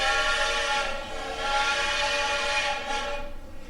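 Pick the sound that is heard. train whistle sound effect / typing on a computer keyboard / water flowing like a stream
train whistle sound effect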